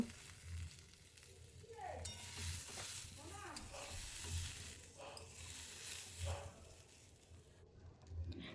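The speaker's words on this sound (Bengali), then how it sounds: "ডাল দেওয়ার পর 1 মিনিট মতন আমি সবজির সাথে এগুলো নাড়াচাড়া করে নেব।" Moong and masoor lentils are stirred with fried potato and cauliflower in a pan, making a soft, faint sizzle with repeated gentle scraping strokes, fairly close.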